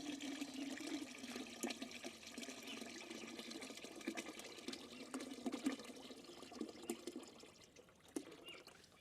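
Liquid, about three litres, poured steadily into an organic farm fertilizer mixture of cow dung, banana and jaggery, a continuous splashing trickle for several seconds with no talking.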